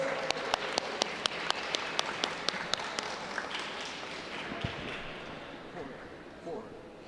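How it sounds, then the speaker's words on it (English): Audience at a school spelling bee final applauds a contestant, steady crowd clapping with a series of sharp, evenly spaced near claps standing out at first, then blending into a softer wash with faint voices. "Grab of applause for him, please."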